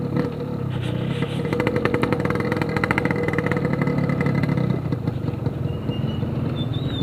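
A Yamaha RX King motorcycle fitted with a Packing Power PK2 exhaust runs steadily nearby, a loud rough two-stroke idle with brief rising revs in the middle before settling back, no talking over it.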